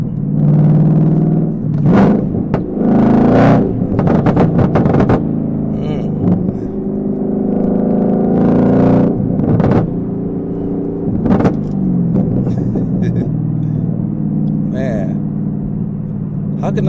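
Chevrolet Camaro ZL1 with an MRT exhaust driven through a curve and downshifted, its engine surging in repeated loud revs and throttle blips over a deep, constant exhaust rumble heard from close by.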